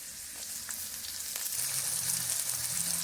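Garlic and slit green chillies frying in hot oil in a pan, a steady close sizzle with faint stirring clicks and no speech.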